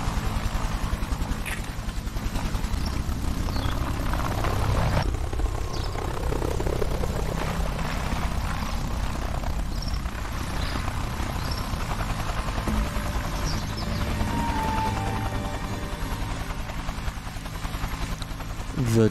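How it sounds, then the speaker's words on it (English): Helicopter rotor and engine drone in the video game Chained Together, loud and continuous throughout, with scattered game effects and faint talk mixed over the steady roar. "Helicopter."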